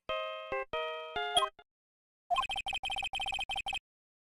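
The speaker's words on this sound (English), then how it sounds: "I know that song your phone plays when it rings." Phone ringtone from the Phoenix Wright video game, the Samurai kids' TV theme, plays as a bright electronic melody of sustained tones, then after a pause a quick run of short repeated beeping notes, loud and alone.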